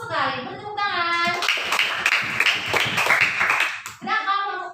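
Children in a classroom break into a burst of clapping lasting a few seconds, with spoken voices just before and after the applause.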